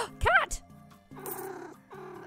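A cat in the video game Minami Lane gives a brief mew and then a soft, steady purring over light game music, with a short excited voice near the start.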